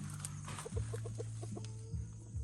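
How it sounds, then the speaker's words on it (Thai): Chickens cluck and chatter close by near their nest on a farm, a steady run of short calls over a low continuous hum, with no one talking. "ไก่ก็สนุกสนาน ขอแอบดูรังเขาหน่อย"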